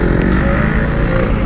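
Yamaha RX King two-stroke motorcycle engine running steadily while riding through heavy traffic, a loud continuous buzzing drone close by, with no talk.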